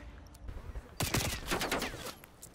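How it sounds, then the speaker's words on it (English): Gunfire in Black Ops Cold War, a short pause followed by a sudden loud burst of rapid shots, dense cracks spreading out over about a second and a half before tapering. "Okay, he's shooting you."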